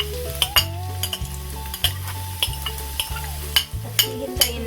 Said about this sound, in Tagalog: Ngayon pong mainit na ang ating mantika ay pwede na nating igisa itong ating bawang.